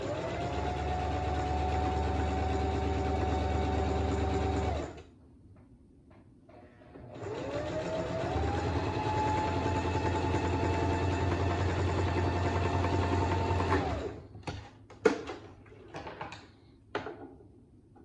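A sewing machine stitches fabric along a 10 inch side, its motor whirring steadily through two long runs separated by a short pause, followed by a few sharp clicks.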